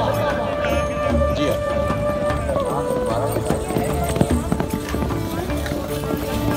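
Horses gallop at a tent pegging contest in Dadyal, Kashmir, their hoofbeats thudding under a loud announcer's voice and crowd noise, with music-like tones in the background.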